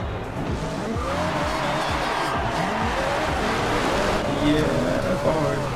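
A 2012 Lotus Exige S with all-wheel-drive drift build in Forza Horizon 2 revs hard with a rising engine note and steady tire squeal, loud and continuous throughout.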